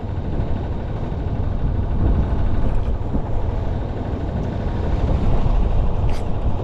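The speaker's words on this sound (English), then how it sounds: "Engine sounds good." A sailboat's inboard engine runs steadily at just under 1500 RPM while motoring in Solent chop, a constant low rumble with wind and water noise layered over it.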